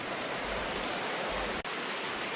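Rain falls steadily outside as a dense, even hiss, loud and continuous with no voices over it.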